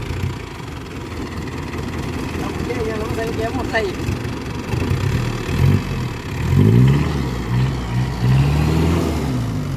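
A pickup truck engine idles steadily and softly in the background while people talk over it nearby.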